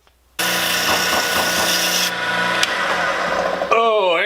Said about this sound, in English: So now I'll sand it.